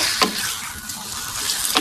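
Chicken pieces frying in a shallow layer of hot oil, giving a steady, close broadband sizzle throughout with a couple of brief stirring scrapes, no voices.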